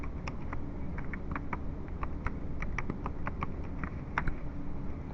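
Password being typed on a computer keyboard in a quiet room, a steady run of light, close key clicks with small pauses, no voices.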